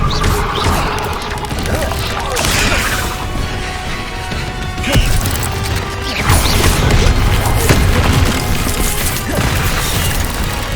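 Spell blasts cast in rapid succession in the video game Hogwarts Legacy: a dense, loud barrage of crashing, whooshing impacts and thuds, with the louder bursts standing out from the continuous combat noise.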